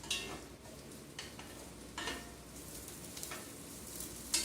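Onions go into a hot pot for homemade chicken soup and sizzle softly, with a quiet frying hiss and intermittent stirring scrapes and clinks.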